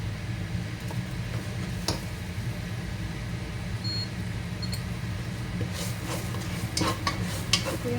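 Garlic slow-fries in oil in a pan for chicken curry, giving a low steady sizzle, with a spoon stirring and scraping and a few clinks of utensils on the pan, close and without talk.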